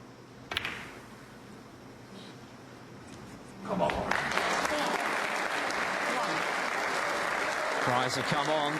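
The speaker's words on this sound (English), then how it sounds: "Cries have come on from a home crowd." Home crowd at a Northern Ireland Open snooker match breaks into loud, sustained applause that swells and holds, with a commentator's voice talking beneath it.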